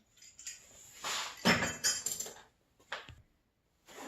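Drinks knock together in a cheers toast, several bright clinks and knocks in short clusters separated by pauses, close and moderately quiet, with no one speaking.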